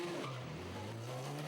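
A Radical race car passing on the Donington Park circuit during a 2009 UK Cup race, its engine a loud steady drone with shifting pitch that fills the whole short moment.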